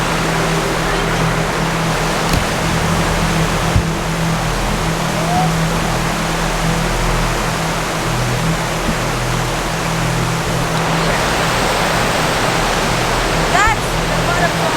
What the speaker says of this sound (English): That's the waterfall right there.